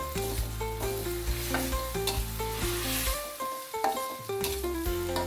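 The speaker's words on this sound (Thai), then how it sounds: "แล้วก็ผัดให้ใบโหระพาโดนความร้อนให้หมดเลยนะครับ" Eggplant and basil leaves stir-fried in a hot pan, with a steady sizzle and repeated scraping and clinking of the spatula, close up and with no voices.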